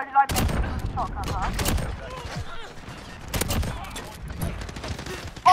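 Shotgun blasts in a fast-paced shooter video game on a small map, several sharp loud shots in quick bursts mixed with other gunfire, under a player's excited talking.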